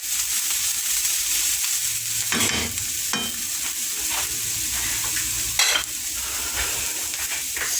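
Kofta meatballs go into a frying pan of sizzling vegetables, with a loud, steady hiss broken by a few sharp bursts of crackle and scraping as the meat is added and stirred.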